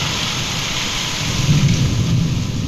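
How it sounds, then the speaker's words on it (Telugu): Heavy rain pours steadily during a thunderstorm brought by Cyclone Remal, a dense close wash of rain noise with a low rumble of thunder swelling briefly midway, no voices. "మెరుపులతో కూడిన భారీ వర్షం కురుస్తోంది"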